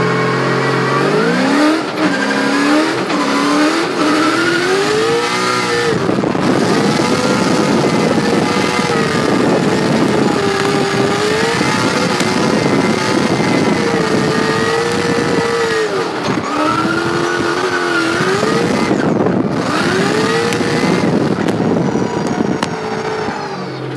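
A drift race car heard from an in-car camera during pre-season testing, its engine loud and close, revving up and down in repeated rising and falling sweeps with brief lifts off the throttle, plus roaring exhaust and some tire noise.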